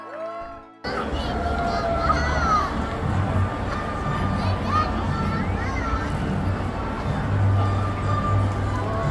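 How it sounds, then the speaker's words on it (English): A large outdoor crowd at the Indianapolis Motor Speedway cheers, whoops and claps continuously as a total solar eclipse ends, a dense wash of voices and applause with scattered excited shouts. "People are clapping. People are cheering."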